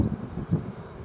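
Bees swarming around a big beehive make a steady, close buzzing drone that swells and fades briefly, with no voices.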